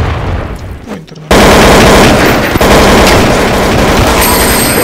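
Gunfire in Counter-Strike: Source, a loud burst of rapid automatic shots erupting after a quieter moment and continuing densely to the end.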